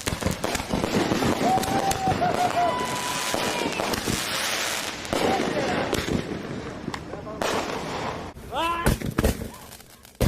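Ten fireworks lit at once, a dense barrage of crackling bangs and pops that carries on for several seconds, then sharper whistling bursts near the end, with people talking over the noise.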